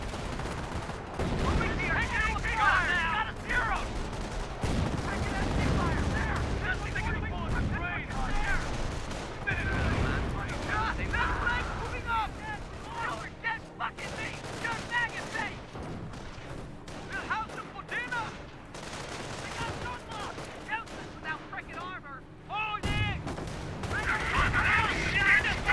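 Gunfire and artillery from the video game Company of Heroes: repeated bursts of rifle and machine-gun fire mixed with heavy booming blasts, dense and continuous across the battle, with a voice talking over parts of it.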